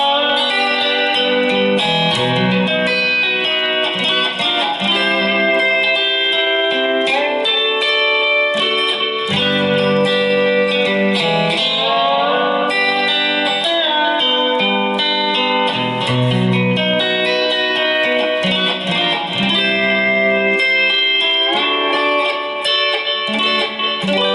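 A lap steel guitar plays a sustained chord progression with gliding, sliding pitches, continuous and loud, with no voices.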